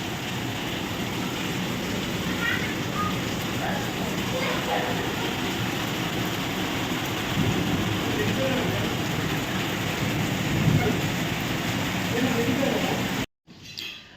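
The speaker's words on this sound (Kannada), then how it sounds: "ಬಾವಿ ಗುಡುಗ್ ಬರುತ್ತೆ ನೋಡು, ಜೋರು ಮಿಂಚು ಬಂತಂದು" A heavy rainstorm roars as a dense, unbroken wash of noise for several seconds during a Deepawali evening, then cuts off abruptly near the end; no distinct thunderclap stands out.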